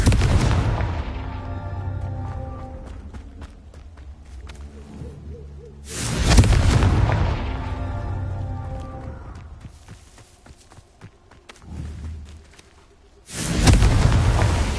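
Fire-blast spell explosions from the Confringo spell in Hogwarts Legacy hit as three loud booms spaced several seconds apart, each with a long rolling decay, over quieter game ambience.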